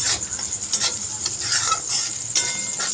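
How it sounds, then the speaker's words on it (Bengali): Flattened rice (chira) fries in a pan while being stirred, with a close crackling sizzle broken by repeated scraping strokes of a utensil. "চলো চিড়েটা একটুখানি ভেজে নিই"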